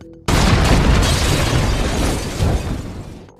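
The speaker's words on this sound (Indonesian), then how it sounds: "hingga bom itu pun meledak" A sudden loud bomb explosion bursts out and rolls into a long, heavy rumbling roar that slowly fades.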